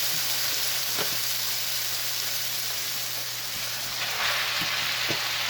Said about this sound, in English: We're going to saute that.